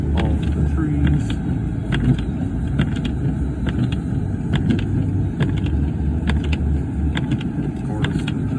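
Vehicles drive by during a snowstorm in Ogdensburg, New York, their tire and engine noise forming a steady low rumble, while someone talks over it and wind and crunching sounds tick in the background.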